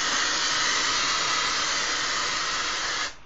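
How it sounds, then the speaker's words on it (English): Dry shampoo hisses from an aerosol can in one steady, close spray lasting about three seconds before cutting off abruptly, with no talking over it. "So you spray this stuff, in the roots of your hair."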